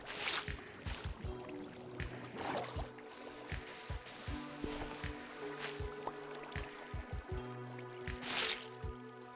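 Water dripping and sloshing in the Minecraft video game, a series of small plinking drips and soft liquid squishes spread irregularly through the stretch, fairly quiet and with no talk.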